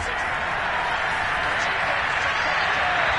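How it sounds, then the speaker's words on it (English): Steady crowd applause from a football game's stands after the defense forces an incompletion on third and two, a continuous dense wash of clapping and cheering heard from a distance. "How about some applause for the defense there?"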